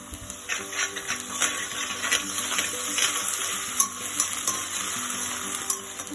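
Onions and ginger paste fry in a pan while being stirred, a moderate sizzle broken by repeated scraping strokes of the spoon, with faint background music and no talk.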